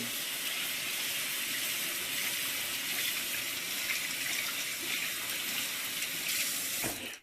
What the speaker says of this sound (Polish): Fasolę przemywamy zimną wodą.